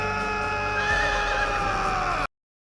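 Horses neighing in an Attack on Titan anime scene as scouts mount up for an operation: a loud, continuous whinny over a dense, layered soundtrack that cuts off abruptly after about two seconds.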